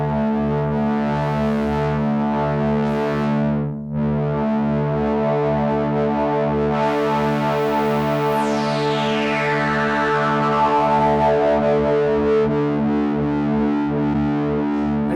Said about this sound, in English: Then we've got a distortion, which I can start to dial in, which is an analog distortion.